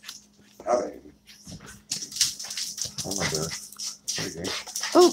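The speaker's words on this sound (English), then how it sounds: "So the dogs are going to bark for just a moment." Dogs bark and whimper excitedly at home as someone arrives, in intermittent bursts alongside a person talking over them.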